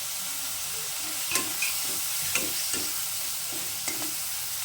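Tomatoes and green chillies fry in a pan for a vegetable dal. A steady close sizzle runs throughout with a few soft scraping stirs of a spatula and no talking.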